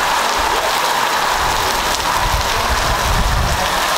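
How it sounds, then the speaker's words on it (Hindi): A downpour of heavy rain, a thick, constant roar of drops striking nearby surfaces, loud and steady throughout with no voices. "जोरदार बारिश आ रही है।"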